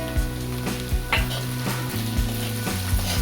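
Okra being sautéed in a pan, a steady close sizzle of frying with repeated scraping strokes as it is stirred, several knocks of the utensil against the pan, no talk.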